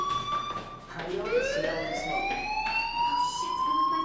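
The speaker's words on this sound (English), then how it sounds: "Hey, do you hear that fire alarm?" In the Life Is Strange video game, a school fire alarm wails with a rising, sweeping electronic siren tone, steady and prominent, while characters talk over it.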